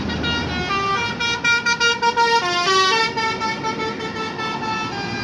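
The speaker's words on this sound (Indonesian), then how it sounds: "Nah, ini dia masuk satu unit bus Gumarang Jaya dengan kelas Maunja kelas 30 legres" A Gumarang Jaya intercity bus with 30 legrest seats pulls into a bus station, sounding a loud, rapid multi-tone musical horn over its rumbling engine.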